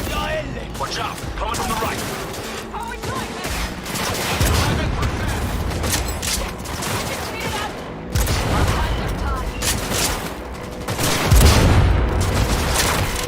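Dense, sustained gunfire from the Cyberpunk 2077 video game, with rapid overlapping shots and booms filling the whole stretch, loud and chaotic, swelling near the end.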